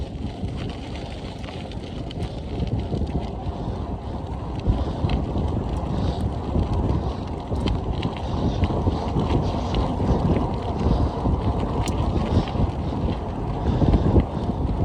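Strong headwind buffets the microphone on a bicycle ride into gusty wind, a loud continuous roar and rumble that swells and surges throughout, with no talking.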